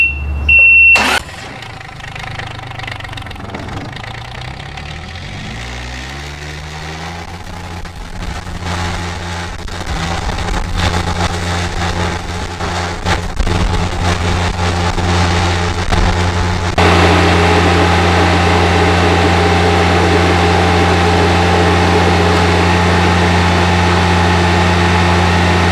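A riding lawnmower engine cranks and fires up, then settles into a loud, steady idle with a constant hum, rising in intensity partway through as it keeps running close by.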